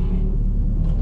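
A wide-body Honda Prelude passes during a backroad car cruise, its engine a deep, loud, steady low rumble that holds for a brief moment close by.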